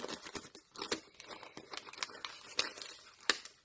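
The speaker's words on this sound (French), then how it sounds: "Attendez, je vais vous les déballer." Christmas rubber stamps are unwrapped from their packaging, making faint, close crinkling and crackling with several sharp snaps and tears spread unevenly throughout.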